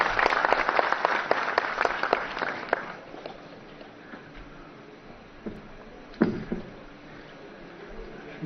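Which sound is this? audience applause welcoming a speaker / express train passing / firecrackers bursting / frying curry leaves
audience applause welcoming a speaker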